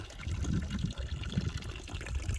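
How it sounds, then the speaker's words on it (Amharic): Natural spring water trickles and splashes steadily on a mountain hike, a continuous close, fairly quiet watery gurgle with no voices. "የተፈጥሮ ምንጭ ውሃ ማለት ነው።"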